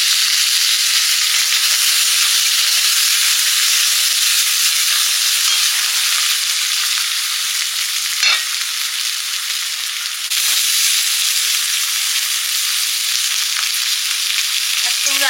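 Chopped onion fries with five-spice in hot oil for a spicy fish dish, making a loud, steady, close sizzle with a few brief stirring scrapes and no talking.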